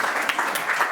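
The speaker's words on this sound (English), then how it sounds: "I think Moe deserves a second good round of applause, actually" An audience claps through a dense, continuous round of applause after a Cornish dialect poetry performance in Torpoint, the sound bright and close, with no talking over it.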